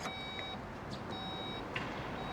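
An Audi A7 50 TDI quattro's tailgate closing warning sounds as a repeated series of steady electronic beeps, each lasting about half a second with short pauses between, fairly quiet against a low background hum.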